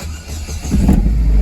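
A Pontiac Solstice GXP engine starting: a brief crank that catches and rises into a loud, steady rumble close by.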